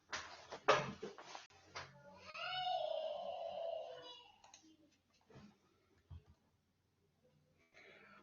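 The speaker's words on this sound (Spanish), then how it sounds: "Gatita." A cat meows close by, a few short sharp cries followed by a long drawn-out wavering meow, then faint scattered noises and quiet.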